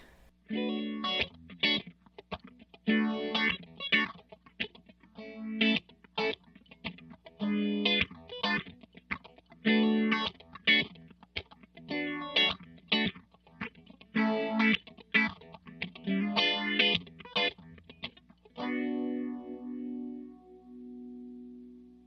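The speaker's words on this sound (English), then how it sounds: "Let's check out the phaser." An electric guitar plays a rhythmic, choppy funk riff through the phaser of a Donner Triple Threat pedal, a sweeping, swirling effect, loud and close, ending on a sustained ringing chord.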